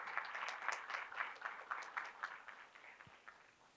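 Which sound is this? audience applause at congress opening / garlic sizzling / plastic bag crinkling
audience applause at congress opening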